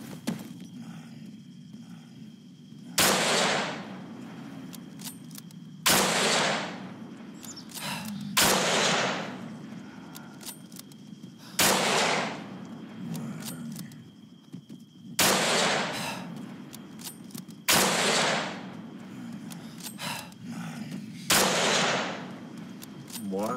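Lee Enfield Mk III bolt-action rifle fired against zombies in the game Breaking Point: seven sharp, loud single shots spaced a few seconds apart, each with a short decaying tail, over a low steady background hum.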